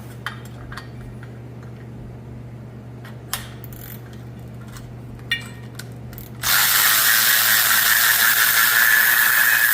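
Ratchet clicks from an 18mm socket on the primary clutch of a 2024 Polaris RZR 1000 XP, a few sparse metallic ticks close by, then a steady loud hiss of noise fills the last few seconds.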